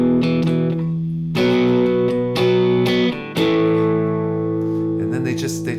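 Heavily distorted electric guitar from a song, thick sustained chords ringing with a few abrupt changes, loud and dense throughout, with a brief dip before the final chord.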